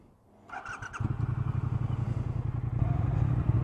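A 2019 Triumph Thruxton R 1200 motorcycle rides off, its engine settling into a steady, loud low rumble after a brief clattering start, building slightly as it gets under way.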